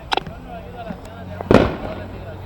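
Backyard 4th of July fireworks near a fence go off in a couple of sharp early pops, then one louder burst with crackling decay, while people nearby talk and react excitedly.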